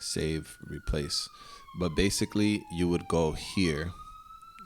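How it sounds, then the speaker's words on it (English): Emergency vehicle sirens wail outside in Queens, New York City, a steady gliding tone sweeping slowly through the whole stretch, loud and continuous beneath someone talking close up. "Pardon the sirens, New York City"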